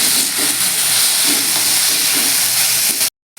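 Potatoes and eggplant frying with greens in a pan, a loud steady hiss and sizzle that runs unbroken for about three seconds and then cuts off abruptly.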